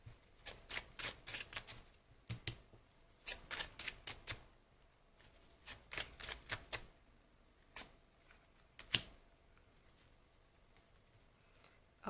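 Tarot cards are shuffled and drawn in a quiet room: soft, papery riffles and flicks come in short clustered bursts, then a few sparse single snaps as cards are pulled.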